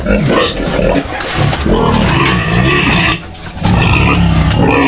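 Farm pigs grunt and squeal loudly and close by, a dense overlapping chorus of rough snorts and cries.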